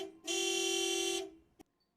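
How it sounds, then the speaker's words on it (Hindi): A single car horn gives one sustained honk of about a second, loud and clear, followed by a brief click. "ये तो बाबा की गाड़ी का हॉर्न है।"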